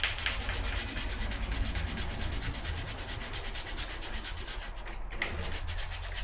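Sandpaper rubs by hand against a door surface during deadlock fitting, a close, steady rasping scrub with rapid back-and-forth strokes throughout.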